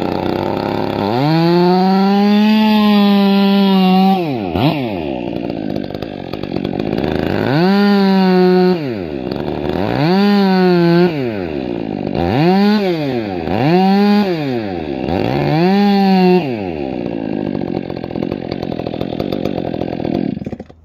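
A chainsaw makes a plunge cut into wood, revving up and bogging down in six repeated surges that rise and fall, loud and close, with no talking.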